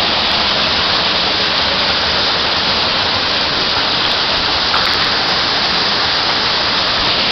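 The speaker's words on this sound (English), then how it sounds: "Look up in there, there's another, like some kind of waterfall." Steady, loud rush of a waterfall near a cliff-jumping and cave spot, a dense unbroken roar of falling water filling the whole stretch with no pauses.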